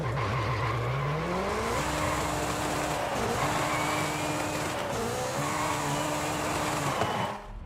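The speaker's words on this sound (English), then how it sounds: "let's just go for a drive and see how it does now with better tires" Car driving in Forza Horizon 5 on new, better tires, the engine droning steadily and rising through long gears, with some tire squeal over a constant loud roar and no talking.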